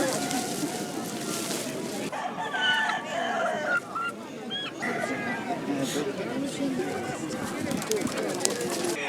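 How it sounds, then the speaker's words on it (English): Chickens at a market in Otavalo, Ecuador cluck and squawk in bursts amid a busy crowd, with people talking nearby over the bird sounds throughout. "Over this way, we have all of the chickens."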